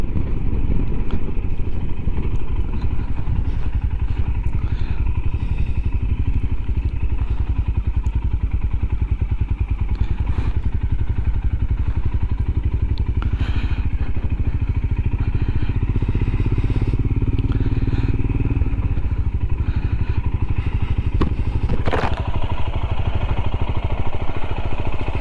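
A Royal Enfield Himalayan motorcycle rides steadily with a continuous, loud engine drone and low rumble, with occasional clatters and thuds from the road throughout.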